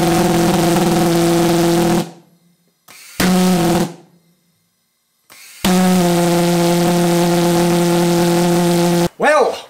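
A homemade propane burner fed by an air jet and a spark igniter roars in loud, steady bursts that stop and restart, with a short fluttering sound near the end.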